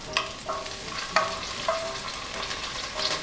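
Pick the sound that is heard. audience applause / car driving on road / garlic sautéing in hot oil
garlic sautéing in hot oil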